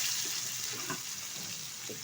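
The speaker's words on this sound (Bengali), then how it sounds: "দিয়ে দিচ্ছি একটা বড় সাইজের কুচিয়ে রাখা পেঁয়াজ" A large chopped onion drops into hot oil alongside already fried chilli for a dal, raising a steady, close hiss of sizzling with a few soft splutters.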